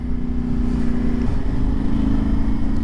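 A Yamaha Tenere 700 motorcycle runs on a dirt section in Colorado, its engine a steady, loud, low drone mixed with wind rush and no speech.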